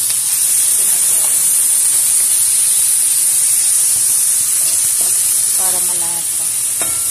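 Mushrooms and chicken breast sauté in a pan with a loud, constant sizzling hiss close up, and a person speaks briefly over the frying near the end.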